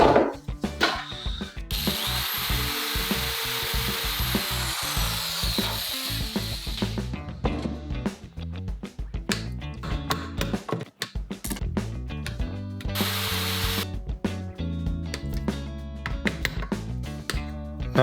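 A drill fitted with an extension made from an old drumstick bores fret dot holes in a guitar neck. Bursts of whirring and grinding alternate with short gaps and handling knocks, close up with no talk.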